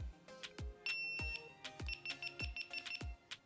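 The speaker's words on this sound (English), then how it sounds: "If you guys hear the beep, that means it's turning it on" Several short electronic beeps from a GoPro Hero7 Black camera powering on ring out over a series of sharp low thumps, all close and fairly quiet in an otherwise still room.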